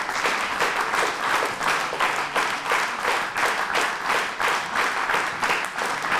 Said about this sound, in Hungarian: szerintem még tapsoljanak nyugodtan